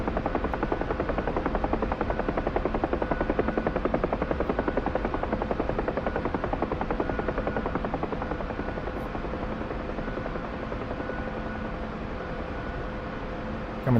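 A Huey helicopter in flight slowing from 120 knots, its steady rotor thump and turbine roar filling the cabin continuously and easing slightly in loudness toward the end.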